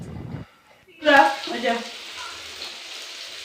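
Potatoes fry in a hot pan, a sudden loud sizzle that bursts in after a short quiet moment and then settles into a softer steady crackle.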